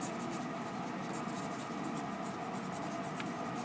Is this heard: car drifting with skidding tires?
no